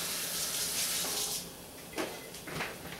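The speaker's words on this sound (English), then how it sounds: "let me wash the seafood out of my hands" Tap water runs into a sink while hands are washed clean of seafood, a brief close rush and splash that softens partway through and then spatters again.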